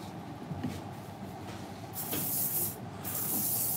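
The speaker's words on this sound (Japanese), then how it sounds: "スプレー振 ります。" Hair spray hisses from a can in a salon, a steady airy spray that swells louder in the second half, close by and with no talk over it.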